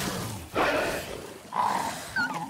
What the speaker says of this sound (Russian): Крокодил против пса?